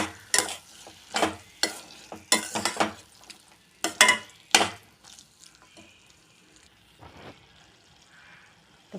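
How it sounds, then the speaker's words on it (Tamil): Soybeans being stirred in a pan for a soybean curry: a run of loud, scraping strokes in bursts over the first five seconds, then quieter, scattered stirring with a faint sizzle underneath. "சேர்த்து ஒரு அரை நிமிஷம் நல்லா கலக்கி விட்டுருங்க"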